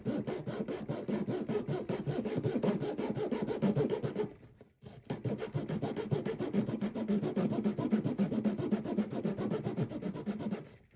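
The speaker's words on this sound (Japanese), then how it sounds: "ちょっとこれノコギリがだんだん切れなくなってきてる。" Steady back-and-forth rasping of a dulling hand saw cutting through wood for a fishing lure, close up, with a brief pause partway through before the sawing continues.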